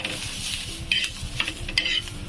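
Onion fries in a pan for shev bhaji, a loud continuous sizzle broken by repeated stirring scrapes and clinks of a spoon against the pan.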